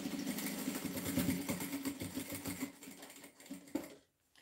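A sewing machine backstitching at the start of a seam on a dish towel runs in a steady rapid mechanical whir with fast needle ticking, pauses briefly, then stops abruptly.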